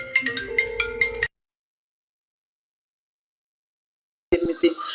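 A melodic phone ringtone plays for about a second, breaks off into silence, then starts again near the end.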